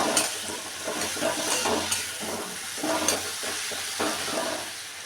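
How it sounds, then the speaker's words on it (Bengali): Potatoes and tomato paste fry in a pan, giving a soft continuous sizzle broken by the scrape and clatter of stirring, heard close with no talking. "একটু ঢেকে দেব আলুটা যাতে ভালোভাবে ভাজা হয়। এরপরে টমেটো পেস্ট দিলাম"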